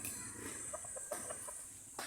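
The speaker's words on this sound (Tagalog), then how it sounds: "Ito po ay mga manok po namin. Mga native." Native chickens on a farm cluck softly with several short, scattered calls over a quiet steady background hiss. No one talks.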